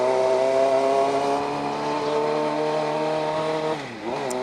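A Suzuki GSX-R motorcycle ridden along the road home, its engine holding a steady loud drone for about four seconds, then briefly dropping off and picking back up as the revs change.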